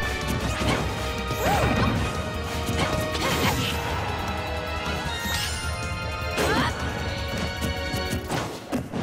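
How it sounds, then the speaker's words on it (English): A down smash lands in a competitive Super Smash Bros tournament match, a loud crashing impact layered over dense game effects and a steady crowd-like din throughout. "right there, just an easy down smash after the missed counter"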